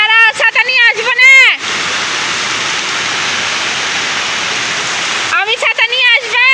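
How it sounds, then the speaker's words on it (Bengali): Heavy rain pours steadily at a beach area, a loud, dense hiss running for several seconds, with talking heard just before and after the downpour sound fills the middle. "বৃষ্টি বেশি হচ্ছে"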